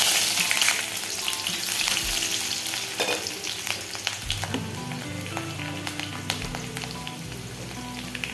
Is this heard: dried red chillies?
yes